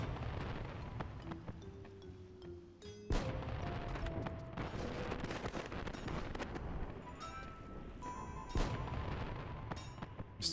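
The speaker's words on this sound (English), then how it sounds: "Still get all the noise from the fireworks" Fireworks in the Final Fantasy XI video game, giving a dense run of crackling bursts and booms over a busy game soundscape with rising tonal whistles and occasional louder pops.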